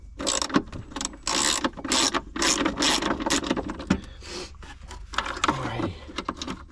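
A wrench clicking and ratcheting on a battery terminal, delivering bursts of mechanical ratchet clicks close to the mic with brief pauses between strokes and no voice over them.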